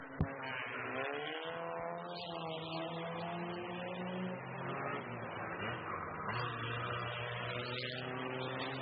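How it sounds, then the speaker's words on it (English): Race car rolling onto a dirt speedway at night, its engine droning and revving steadily at a middle distance with a short sharp knock near the start. "it looks like we got another car coming out here to join in"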